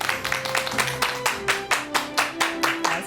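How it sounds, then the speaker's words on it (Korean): A studio audience at a Korean health talk show claps to welcome a family medicine doctor onto the stage, with distinct rhythmic claps in an even beat, close and moderately loud, over a faint musical tone. "큰 박수 부탁드립니다."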